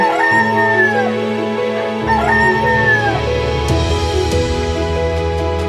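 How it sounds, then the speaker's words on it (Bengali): A hen squawks twice in drawn-out, wavering cries over steady background music. "মুরগিটি নিরুপায় হয়ে চিৎকার করছিল।"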